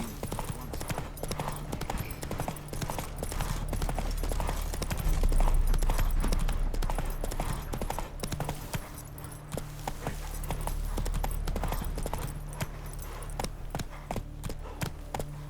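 Horse hooves clip-clop steadily in a trotting rhythm throughout, close and clear over a low game soundtrack drone, from The Witcher 3: Wild Hunt.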